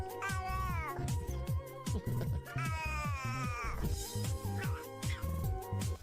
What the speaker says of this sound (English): this one's kind of what my cat sounds like in the fucking morning. Meowing for food, whining for food